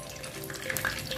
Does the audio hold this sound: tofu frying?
yes